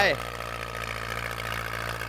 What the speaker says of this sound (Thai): หนีมาขับรถไถ